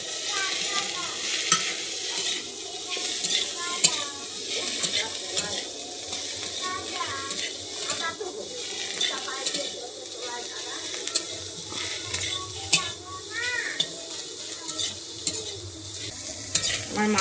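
Mushrooms sizzle steadily in a pan, a constant crackling hiss with a few light clinks of a utensil against the pan.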